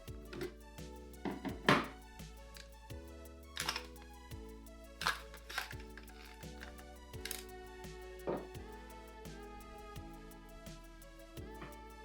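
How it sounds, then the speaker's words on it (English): Airsoft Uzi, a Northeast MP2A1, being field stripped: its top cover, bolt and recoil spring come out as scattered sharp clicks, taps and thunks of metal and plastic parts, close and fairly quiet over steady background music. "To field strip the Uzi, first remove the top cover, then pull out the bolt and recoil spring."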